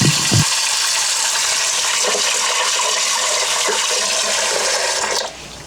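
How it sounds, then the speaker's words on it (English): Water runs steadily into a pot of dried beans being rinsed, a continuous gushing splash that holds for several seconds, then stops abruptly near the end. "I'm going to rinse them off with some water."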